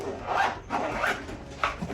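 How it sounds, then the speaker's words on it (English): A zipper closing on a fabric carrying case that holds two graded comic slabs, heard as three quick rasping pulls in close succession, close and fairly soft. "It zips up."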